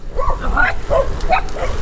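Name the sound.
dog barking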